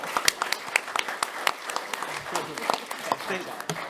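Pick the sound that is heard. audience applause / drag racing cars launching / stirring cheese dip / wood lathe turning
audience applause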